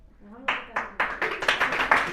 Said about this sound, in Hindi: देखते हैं किस ग्रुप का ज्यादा ताली निकलता है।